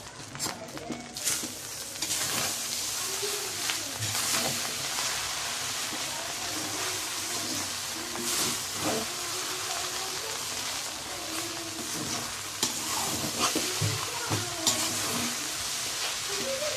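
Chicken fried rice with tomato, green chili and spring onion is stir-fried over full flame. A loud, steady sizzle and hiss continues throughout, with occasional scrapes and clanks of a spatula in the pan.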